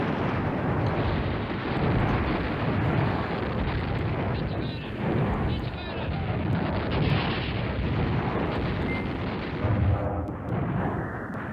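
Airstrike bombing in the Command Ops 2 war game, a dense, loud rumble of explosions and booms rolling continuously with bursts throughout.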